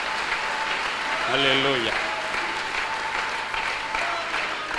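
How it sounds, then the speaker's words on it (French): A church congregation applauds and cheers in a continuous loud wash of clapping, while a voice rises briefly over the crowd in a sung exclamation. "Est-ce qu'on peut l'acclamer, bien-aimé?"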